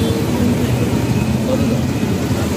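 Congested road traffic in a jam near Dakshineswar, heard as a dense, steady rumble of engines and vehicles at close range with no pauses.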